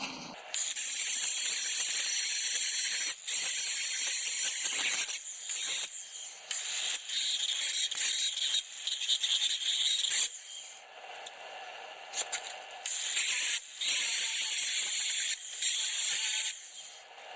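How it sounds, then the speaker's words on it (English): A power sander works the badly rusted frame of a 2012 Chevy Silverado 1500 4X4 5.3, making a loud, harsh, continuous abrasive hiss broken by a few short pauses and lighter passes. "I gotta sand a little bit better right there."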